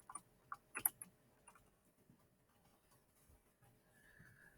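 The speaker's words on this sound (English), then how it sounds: "I'm going to type my name" A few light clicks of computer keyboard keys as a name is typed, a brief cluster of close taps at the start followed by near silence and faint room hiss.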